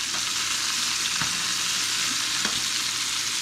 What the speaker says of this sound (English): Just a quick little sear.